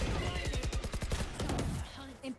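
Rapid bursts of gunfire ring out in an online shooter video game, with quick repeated shots over a couple of seconds and a voice talking faintly alongside.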